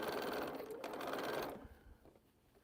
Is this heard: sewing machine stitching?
yes